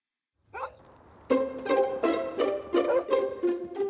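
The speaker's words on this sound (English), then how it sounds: "Whenever Mossy the dog arrives, Grandma is always close behind." A small dog gives a quick yip, then a run of five or six sharp, close barks in an even rhythm.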